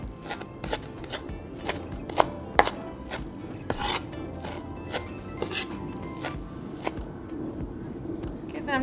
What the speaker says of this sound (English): So just make sure that your cilantro is finely chopped.